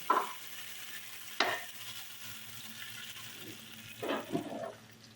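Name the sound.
haleem being cooked and stirred in a pot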